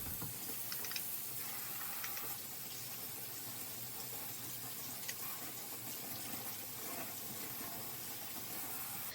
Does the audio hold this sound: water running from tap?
yes